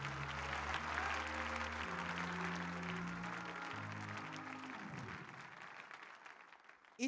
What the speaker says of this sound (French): Élevons nos mains et applaudissons le Seigneur.